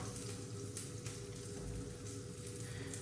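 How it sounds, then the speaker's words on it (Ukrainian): Burger bun halves, bottom and top, toast in melted butter in a frying pan, giving a steady, soft sizzle and crackle that runs evenly throughout with no voices. "Коли масло вже розтопилось, я викладаю нижню частинку і верхню."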